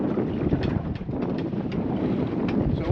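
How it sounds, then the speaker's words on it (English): Strong wind at sea buffets the microphone aboard a fishing boat during cod fishing, a loud continuous roar with gusty swells and no speech. "Wind has picked up a little bit"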